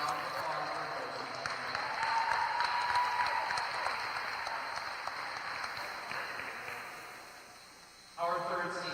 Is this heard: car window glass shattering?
no